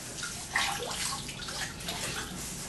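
Running water rinses a pottery wheel bat, a steady broad splashing wash with a brief louder surge near the start, continuous and fairly close throughout.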